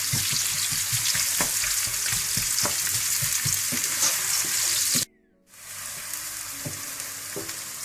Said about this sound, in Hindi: इसमें आप प्याज डाल लें। इनको आप ब्राउन कर लें।